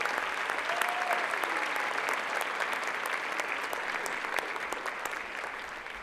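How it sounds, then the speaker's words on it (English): An audience at a youth-of-the-year celebration event applauds, a dense steady clapping that carries on for several seconds and slowly fades, heard from within the room with no talk over it. "Can we give them all a round of applause"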